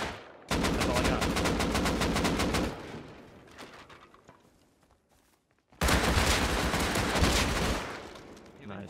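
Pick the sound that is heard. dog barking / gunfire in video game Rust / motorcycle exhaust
gunfire in video game Rust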